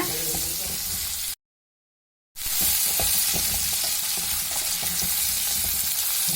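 Onion and tomato frying in a pan for brain sambar, a loud close sizzle with stirring scrapes, briefly cut to silence before the frying resumes just as strongly.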